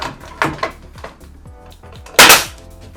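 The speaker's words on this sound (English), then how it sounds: "what we're going to be using is a brad nailer to have the minimal site of these" Sharp pneumatic brad nailer shots driving nails into cedar planks on a feature wall, several quick close snaps in an uneven rhythm ending with one louder burst and air hiss.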